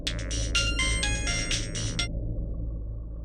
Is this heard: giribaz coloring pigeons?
no